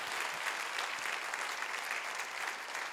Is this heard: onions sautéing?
no